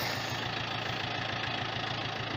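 A Japanese tractor engine runs steadily while driving a 1.80 m wide rotary tiller cutting about 25 cm deep, a continuous mid-pitched mechanical drone with a fine rhythmic pulse, close and fairly even, with no voices.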